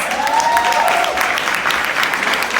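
An audience claps steadily at a women's event speech, a dense, even wash of applause of moderate loudness throughout, with no speech over it.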